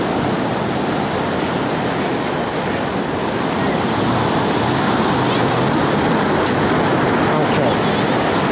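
Ocean waves breaking on a beach at Lincoln City, Oregon, a loud, steady roar of surf with wind, continuous throughout at close range.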